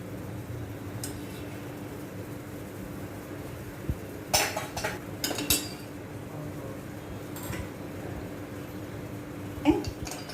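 A serving spoon clinks against a cooking pot in a few sharp metallic taps as three spoonfuls of cooking oil go in for a vegetable biryani, set over a steady low kitchen hum.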